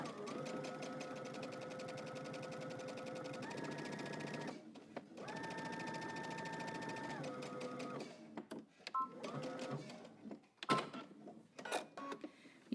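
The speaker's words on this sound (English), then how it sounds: "now I'm going to stitch down the center of both following my seam" A sewing machine runs close up, stitching down the center along a seam on a Simplicity pattern 8915 garment, with two long steady bursts separated by a pause, followed by scattered clicks and handling noises.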